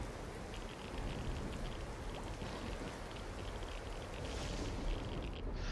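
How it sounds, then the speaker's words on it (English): Acid rain pours steadily in the survival game Empyrion Galactic Survival, a dense, continuous hiss of falling drops with a faint wind-like wash, constant throughout and with no voices over it. "I like the acid rain touch."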